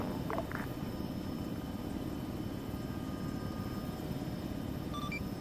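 A Chinook helicopter drones steadily overhead, its continuous low rotor thrum filling the whole stretch at an even level with no talk over it.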